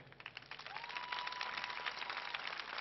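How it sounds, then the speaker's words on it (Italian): Audience applause for a sponsor at an Italian event, a fairly quiet, steady patter of many hands clapping, faint and slightly distant, with a thin tone running through it. "al quale voi tributerete un applauso incredibile"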